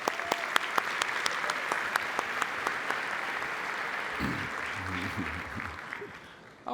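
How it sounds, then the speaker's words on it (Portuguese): Dense, sustained audience applause at a company convention, cheering a brave attendee, with a speaker's voice coming in near the end as the clapping tapers off. "Palmas para ele!"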